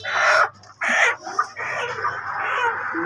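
Live chickens at a market stall cluck and squawk loudly and close up in several bursts, with a continuous din of fowl calls filling the gaps between them.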